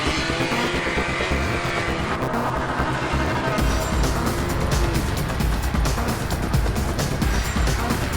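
A field of race cars led by a classic Morris Marina pulls away at Silverstone. Loud, continuous engines roar and snarl together and swell as more cars join, with no voices.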